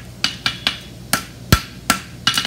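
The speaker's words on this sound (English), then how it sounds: "just kind of use the round side of my hammer and just get that to where it lines up" Sharp metallic hammer strikes on a heated bar horseshoe, eight or so close blows in an uneven rhythm, some ringing lightly, with no talking.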